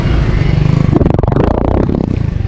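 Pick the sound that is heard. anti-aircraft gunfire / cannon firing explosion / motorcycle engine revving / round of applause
motorcycle engine revving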